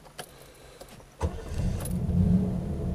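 A 1975 Triumph Stag Mark II automatic engine starting: a few faint clicks, then a cranking catch and the engine settling into a steady low idle, close by.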